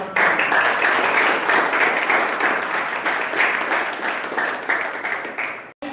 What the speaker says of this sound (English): Among a thunderous round of applause, Toastmasters.